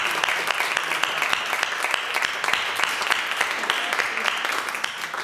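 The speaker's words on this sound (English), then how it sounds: "So let's give them another round of applause." An audience claps steadily and fairly densely after a piano recital, a sustained round of applause with no one talking.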